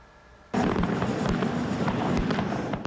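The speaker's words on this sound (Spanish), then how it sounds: "varias ciudades festejaron con espectáculos de fuegos artificiales" Fourth of July fireworks display, a sudden onset of dense crackling bursts and pops that continues loud and busy to the end.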